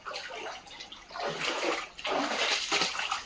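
Rain-swollen drain floodwater pours into a house in Vidarbha, Maharashtra, a loud, continuous rushing gush that surges in waves, close by and alone without talk.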